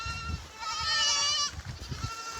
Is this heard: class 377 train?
no